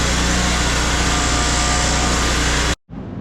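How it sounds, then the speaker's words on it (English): A gas generator runs close by in a garage with a constant, dense engine drone, broken by a brief cut near the end before the hum resumes. "you can hear the generator running"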